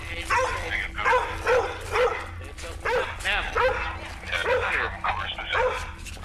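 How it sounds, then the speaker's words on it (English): Dog barking repeatedly outside a house during a police call, a series of close, loud barks and yips mixed with talking voices and radio hum. "Oh, the dog outside."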